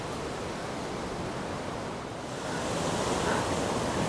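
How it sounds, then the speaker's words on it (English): Steady wind rushing across a sandy lakeside waterfront campground, a broad continuous roar that dips briefly and then swells again, with no voices. "Oh, wind."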